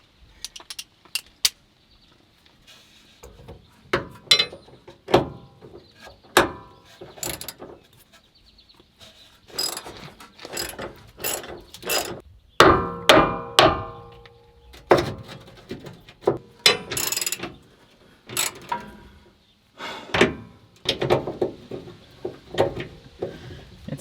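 A ratchet wrench working a 10 or 15 millimeter screw to free a bump stop on a Ford F-150 pickup, giving repeated bursts of sharp metallic clicking separated by pauses, close and fairly loud, with no talking.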